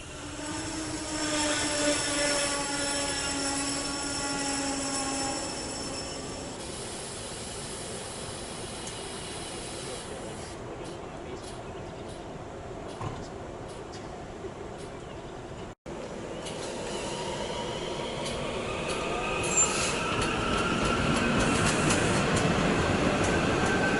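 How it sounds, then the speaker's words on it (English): A trio of SEPTA Silverliner 5 commuter railcars sits at a station, with a steady loud mechanical hum and whine that fades midway, then swells again as the train rolls on. "As a trio of Silverliner 5 drops off its passengers"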